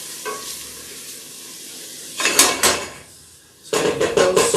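Chopped vegetables and celery sauté in a pot for tomato basil soup, a soft sizzle with stirring scrapes that swell into two louder bursts of frying and clattering near the end.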